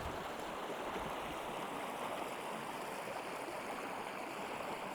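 Water flowing steadily in a stream beside a nature preserve trail, a continuous close rushing wash with no breaks and no voices over it.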